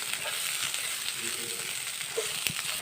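Bitter gourd frying and roasting in a pan at a home village kitchen, a steady soft sizzle with faint crackles and occasional stirring scrapes.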